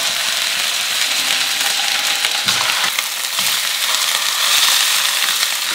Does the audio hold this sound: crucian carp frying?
yes